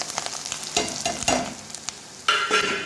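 Garlic and spice masala sizzles and crackles in a pan after a cumin and mustard seed tempering, with a spoon scraping and stirring in uneven bursts close by.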